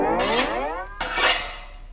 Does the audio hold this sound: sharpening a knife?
yes